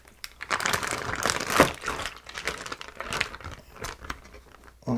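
Small plastic bags holding TRS-80 Model 4P parts crinkle and rustle near at hand, a soft, irregular run of crackling handling noise without talk.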